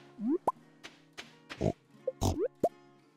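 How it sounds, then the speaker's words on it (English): Pigs in the Stardew Valley farming video game give a few short, clipped oinks and grunts, spaced through a burst of chirpy game blips and soft plops, with no talking. "Thank you, pigs."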